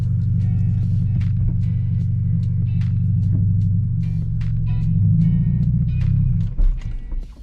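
A manual car fitted with a racing clutch, its engine droning loud and steady at low pitch with a slight rise in revs near the end before dropping off, heard up close from inside the cabin.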